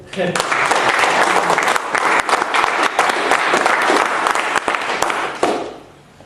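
An audience at a Toastmasters club meeting breaks into loud, close applause with some cheering voices mixed in, dense clapping that holds for several seconds before tapering away.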